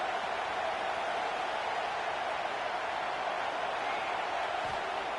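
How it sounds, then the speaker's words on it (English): Football stadium crowd roaring during a goal-line defensive stand against Texas, a dense, steady wall of cheering noise that stays loud and unbroken throughout. "the crowd really making some noise now, trying to help out this defense to get this stop near the goal line"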